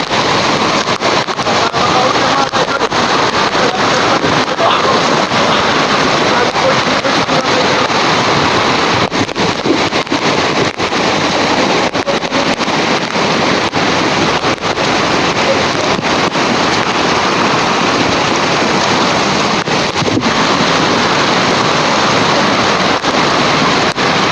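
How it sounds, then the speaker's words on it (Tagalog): Strong current of a deep creek rushing steadily and loudly, a continuous broadband roar of churning water with no pauses, close to the microphone and without voices. "Ang lakas ng alon ng sapa"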